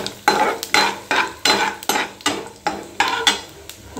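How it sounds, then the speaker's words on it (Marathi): A spoon stirs cumin seeds frying in oil with cinnamon and cardamom in a pan, scraping in a steady rhythm of about ten sharp strokes over a soft sizzle, close and without talk. "त्याच्यामध्ये जिरा टाकते मी आता."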